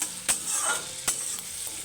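Potatoes fry in a pan with a steady, fairly quiet sizzle, broken by a few sharp clicks and scrapes of stirring, and no voices.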